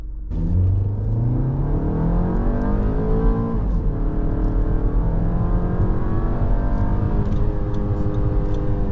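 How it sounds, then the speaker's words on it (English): A 2016 Audi Q3 compact SUV in sport mode accelerating hard from a standstill, its engine note climbing steadily through the gears with brief dips at each automatic shift, loud and sustained from inside the cabin. "So 0 to 60 actually comes fairly quick in this Audi Q3."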